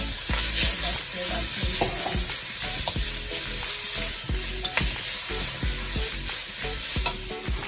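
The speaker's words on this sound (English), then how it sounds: "At this point now, I'm going to add in some minced garlic and ginger." Minced garlic and ginger fry loudly in a hot pan for Singapore noodles, a steady close sizzle punctuated by regular rhythmic stirring clatters throughout, with no talking.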